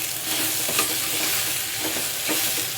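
Beans fry and sizzle in a hot pan while being stirred, with steady crackling and scraping spoon strokes for a home-style Telugu bean curry.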